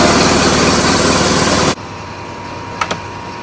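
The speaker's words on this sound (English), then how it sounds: "that's Matthew's compressor. This is mine. I've had for, I don't know, 25 years or so. It's a bit noisy and there's a few leaks here and there." An old, leaky air compressor about 25 years old roars loudly and steadily, then cuts off abruptly. A couple of sharp clicks or hisses follow in the quieter air.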